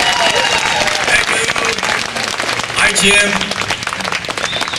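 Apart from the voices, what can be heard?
audience applause for the percussionist at a band concert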